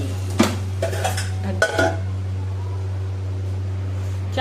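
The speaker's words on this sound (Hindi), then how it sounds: "उड़दों में लगा देते हैं ज़बरदस्त वाला तड़का।" A spoon clinks and scrapes against a pot as tadka is stirred into boiled urad dal, a few sharp metallic knocks and clatters over a steady low kitchen hum.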